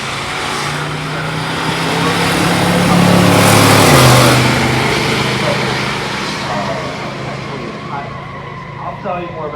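Engines of a 1977 Pontiac Trans Am and a supercharged 1957 Ford 300 in a stock drag race, with a loud drone that swells to a peak and then falls away, under steady crowd noise and chatter at the strip.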